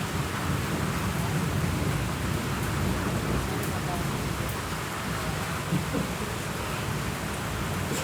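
A rain and thunderstorm outdoors, heavy steady rain with low rumbling thunder rolling beneath it, a loud continuous wash of sound lasting the whole stretch with no clear speech.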